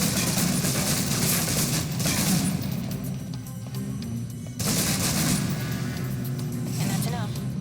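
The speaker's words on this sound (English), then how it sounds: "If you're trapped in close quarters with multiple opponents, the SMGs can help clear the room quickly" Submachine gun fire in the video game Alpha Protocol, dense rapid bursts that rattle on loudly, drop out briefly near the middle, then resume under a voice talking.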